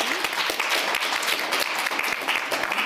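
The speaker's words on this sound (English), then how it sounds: "Please give a big round of applause." Energetic conference audience applause at the World Economic Forum in Davos, crisp individual claps audible in the mix, sustained and loud across the whole short stretch.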